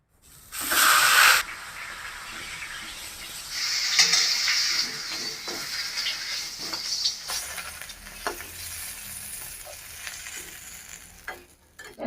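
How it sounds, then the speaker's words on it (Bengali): A fish head frying in hot oil in a heated wok, cooked for pumpkin leaf greens: a loud sizzling burst as it hits the oil, settling into steady hissing with scattered crackles and stirring scrapes. "আমি এখন মাছের মাথাটা ভাজে নেব।"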